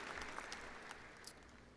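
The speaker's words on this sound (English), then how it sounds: "Let's give all of our assistant principals a round of applause" Audience applause for the assistant principals at a 2018 high school graduation ceremony, a steady wash of many hands clapping at moderate distance throughout, with no voices over it.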